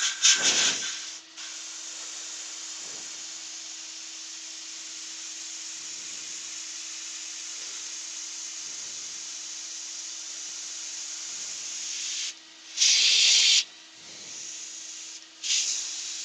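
Dust extraction runs as a steady, even hiss across the whole stretch, with a low hum and soft periodic rubbing as a softwood piece turns slowly on the lathe, plus a few brief louder bursts near the end.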